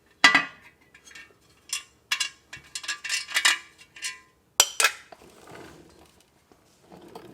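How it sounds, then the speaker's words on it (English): Rear differential cover pan being worked off a Ford F250 with a large flathead and a metal hammer: a series of sharp metallic clinks and taps, close and irregular, with short gaps between bursts. "Let's go ahead and remove this pan."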